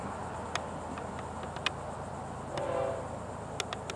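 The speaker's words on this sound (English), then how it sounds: "Let's see if we can take a look at the afternoon train" An FEC freight train passes at a distance, its horn sounding briefly over a steady low rumble of rolling cars, with faint clicks and knocks scattered throughout.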